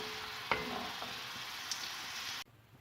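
Onions sizzle steadily in hot oil for a fish curry, a close, even frying hiss with a couple of faint utensil clinks, cutting off abruptly near the end.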